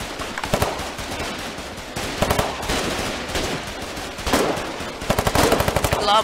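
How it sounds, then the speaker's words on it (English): Automatic weapon fire in the Foxhole war game: loud, rapid bursts of machine-gun shots in several strings, with a dense rattling volley near the end over a steady background of battle noise. "Don't engage in long distance shooting with automatic weapons."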